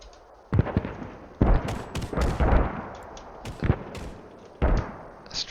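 Mortar blasts and rifle gunfire in a Napoleonic-era video game battle, with sharp, loud shots and heavy thuds landing irregularly, several close together, over a constant low background rumble.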